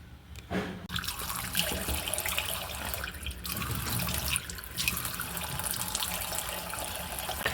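Water runs steadily from a tap into a sink while someone washes their face, with splashes and brief breaks in the flow, close by.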